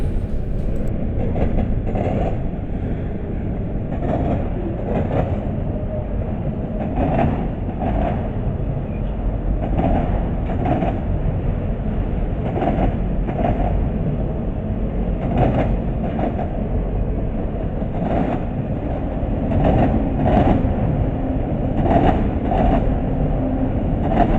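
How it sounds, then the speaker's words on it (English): Northbound freight train 248, running from Simpson Yard in Jacksonville to Inman Yard in Atlanta, rolls at track speed with a steady loud rumble and repeated rhythmic wheel clicks over rail joints. "This is train load number 248, Simpson Yard in Jacksonville to Inman Yard in Atlanta, Georgia, heading northbound Sunday morning."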